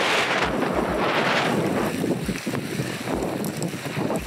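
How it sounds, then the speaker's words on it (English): Strong wind roaring across a mountain glacier during alpine climbing, heavy buffeting gusts hitting the microphone continuously, loud and close with low rumbling throughout. "Hopefully you can hear me over the wind, but Raphael, you've got a little shelter in"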